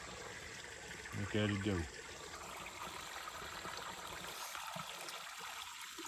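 Water pours through a drain at a spring water catchment, a steady, close trickling rush that continues throughout. Someone speaks briefly over it.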